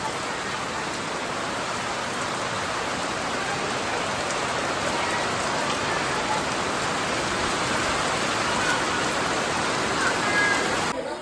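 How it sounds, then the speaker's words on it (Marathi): Heavy rain pouring down in a constant, dense roar that stays loud and unbroken throughout. "पाऊस काय थांबाचं नाव घेत ना"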